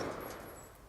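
Rapid gunfire in the video game Black Ops 2, fired at targets, a dense continuous burst of shots that fills the whole moment and eases slightly toward the end.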